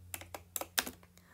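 Quick, light keystrokes on a computer keyboard, about eight separate clicks in an uneven rhythm, close and fairly quiet.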